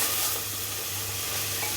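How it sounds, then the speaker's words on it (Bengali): Potato curry sizzles in a pan while being stirred, a continuous crackling fry with soft scraping, close and steady for a brief moment without talk. "আজকে সকালবেলা একটু আলু তরকারি বানাচ্ছি।"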